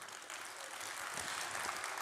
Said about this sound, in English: Can we please get a round of applause for the amazing work that Drift v3 has pushed to the market?